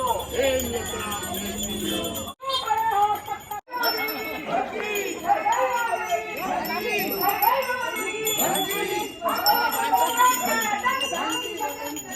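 A bell rings during a local ward councillor election campaign in Mukhani, where the bell is the candidate's symbol. It rings continuously under loud crowd chanting and chatter, with a brief break just after the two-second mark and another near four seconds.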